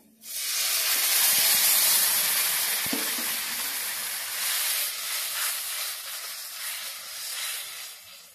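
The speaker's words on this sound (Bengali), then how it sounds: "মশলাটা খুব সুন্দর করে আমি কষিয়ে নিয়েছি, এরপর দিয়ে দিচ্ছি একটু জল।" Water hits sizzling fried spice paste in a pan for egg curry, setting off a loud steam hiss that starts abruptly and slowly fades into a softer bubbling sizzle with light stirring.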